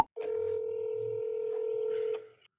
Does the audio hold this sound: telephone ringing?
yes